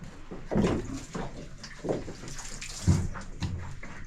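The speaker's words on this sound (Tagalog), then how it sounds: "Tubig." Water pours and splashes in irregular bursts, fairly close and loud, with no voices.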